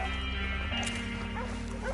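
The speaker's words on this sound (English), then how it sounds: "I'll keep these dogs at bay." Dogs bark and yip in a Red Dead Redemption 2 game scene, a few short barks over a steady droning game background with hoof-like clatter, fairly quiet and mixed into the soundtrack.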